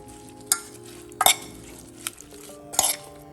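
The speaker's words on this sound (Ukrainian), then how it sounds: "І перемішуємо" Salad with sour cream being stirred in a bowl, a few distinct scraping and clinking strokes of a utensil against the dish, close up over a quiet background, no talking.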